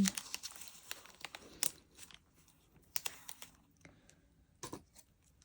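Paper planner sticker edge being trimmed, a series of quiet, close crinkling snips and rustles in short scattered bursts with small pauses.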